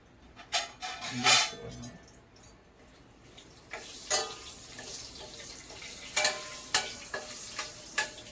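Bay leaves and whole garam masala sizzle in butter and oil in a pan, a soft steady frying hiss punctuated by sharp clinks and scrapes of a spoon stirring, with a brief murmur of voice.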